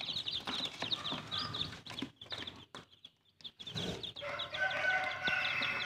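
Chickens cluck and squawk repeatedly close by, with a rooster-like crow rising near the end amid farmyard noise.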